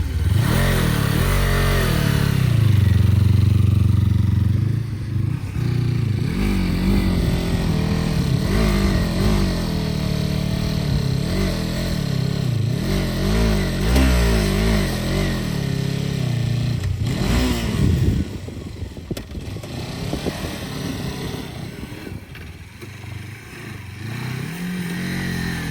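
A motorbike ridden across desert sand against a strong headwind, its engine droning loudly and steadily throughout with constant wind roar buffeting the microphone, revving slightly as it strains.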